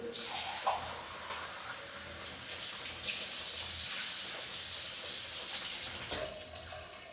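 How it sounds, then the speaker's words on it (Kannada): Water boils hard in a pot on a home stove before rice goes in, a steady broadband bubbling hiss that swells louder partway through and briefly dips near the end, with no talk. "ಇವಾಗ ನಾನು ನೋಡಿ ನೀರು ಚೆನ್ನಾಗಿ ಕುದೀತಾ ಇದೆ"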